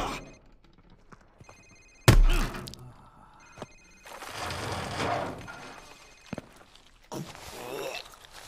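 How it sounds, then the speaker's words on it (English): A cell phone rings during an interrogation scene in Call of Duty Modern Warfare Remastered, a short electronic tone pattern among thuds, footsteps and bursts of male speech. "Sir, it's his cell phone."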